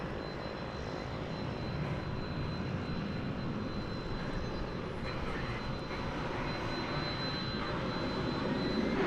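An American Airlines jet rolls for takeoff on runway 18L at DFW Airport, a steady, loud broadband engine roar holding throughout with a faint high whine on top and no voices.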